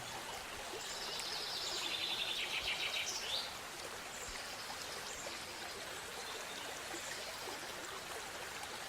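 A river flows steadily with an even, continuous rush of water, while a few bird calls chirp over it in the first few seconds.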